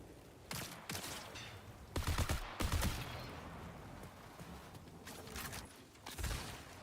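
SMG fire in the shooter game Marathon: several short automatic bursts, loudest around the two- and three-second marks, with quieter scattered shots between them, with no talk.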